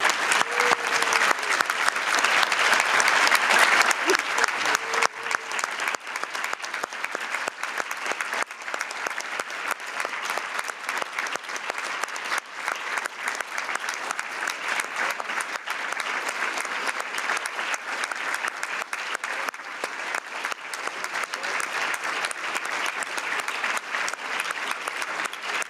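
Sustained audience applause, a steady dense patter of many hands that continues at an even level throughout, moderately distant with no talk over it.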